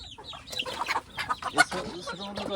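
Village farm chickens cluck in short, irregular bursts close by, some calls overlapping and rising sharply before trailing off.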